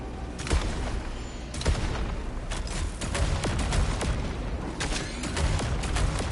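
Gunfire from the Annihilator shotgun in the video game Saros: repeated loud, broadband blasts with sharp onsets over a dense, steady wash of game action and booming effects.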